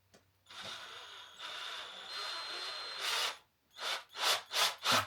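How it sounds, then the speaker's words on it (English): A drill bit chucked into a home DIY tool runs in a whirring stretch, then a series of short, separate drilling bursts follows, close and moderately loud. "So I thought I'd try one of my drill bits and it works"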